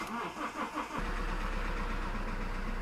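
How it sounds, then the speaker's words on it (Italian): A car's engine cranks briefly with a rhythmic starter whir and then catches, settling into a steady low idle, close and loud with no talk. "Bene, vado ad accendere il motore."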